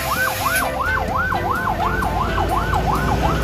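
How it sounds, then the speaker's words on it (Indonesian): A muddy toy ambulance gives off a loud, continuous wailing siren that sweeps up and down in a steady repeating cycle, roughly two sweeps per second, over a low mechanical hum. "Ternyata mobil ambulans."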